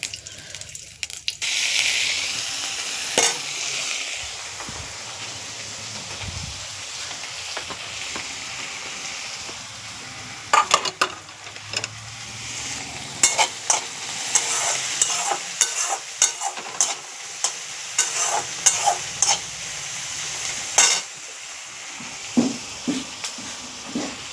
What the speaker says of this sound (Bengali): শুকনো লঙ্কা আর তেজপাতা আর একটু গোটা জিরা দিয়ে নেড়ে চেড়ে কেটে রাখা পেঁয়াজ কুচি দিয়ে দেবো।